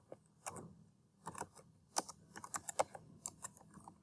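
Typing on a computer keyboard while coding a website button, with close, light key clicks in short irregular runs and small gaps.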